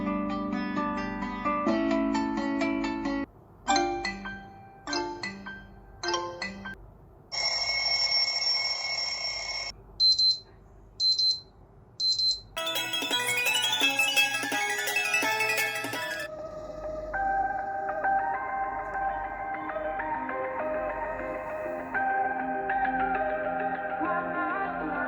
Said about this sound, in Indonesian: Ini luar biasanya ada 5 level bunyi alarm yang bisa kalian pilih